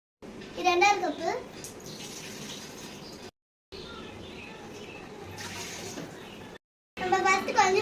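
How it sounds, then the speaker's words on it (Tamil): Water is poured onto soaked rice for biryani in a few bursts of splashing and trickling, with a child's chatter and birdsong in the background. "இப்போ 3 கப் தண்ணி ஊற்றலாம்."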